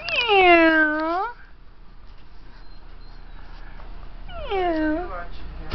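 A house cat gives two loud, drawn-out meows close by, one at the start and one near the end, with quiet room sound between them.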